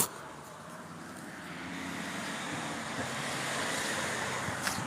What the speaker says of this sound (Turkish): Araba seslerini görüyorsunuz. Araba seslerini görüyorsunuz oğlum.